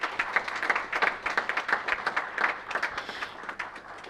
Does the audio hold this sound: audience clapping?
yes